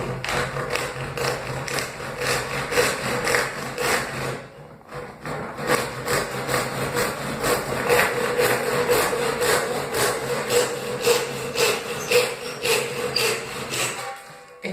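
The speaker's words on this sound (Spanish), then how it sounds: "Eso lo podemos cortar con un serrucho" Hand saw cutting through wood in a woodworking shop, rapid rhythmic rasping strokes close up, continuing steadily with a brief pause midway.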